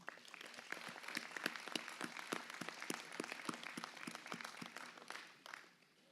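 An audience at a New Year greetings ceremony in Le Mesnil-Saint-Denis claps for several seconds, a fairly faint, moderately distant round of distinct hand claps that fades away at the end.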